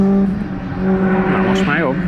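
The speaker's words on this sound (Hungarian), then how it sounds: "A gázpöccsel vált vissza." A tuned first-generation VW Golf or a Mazda MX-5 NA on a track, its engine note dropping and then flaring sharply as the throttle is blipped on a downshift, close and loud over steady engine drone.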